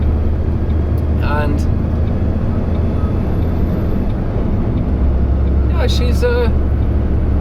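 A MAN TGM 18.250 refrigerated rigid truck drives along, its engine a steady low drone heard from inside the cab, with someone talking over it.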